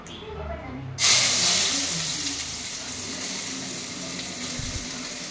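Onions and mustard seeds hit hot oil in a pan, bursting into a loud, steady sizzle after a second of low rumble, then settling into continuous close frying hiss with faint clatter beneath.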